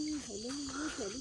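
A frog calls at night, giving one faint, sustained warbling croak that rises and falls over a quiet background of insect chirping.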